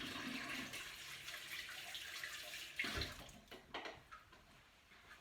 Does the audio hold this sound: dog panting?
no